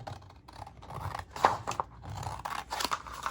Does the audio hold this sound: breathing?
no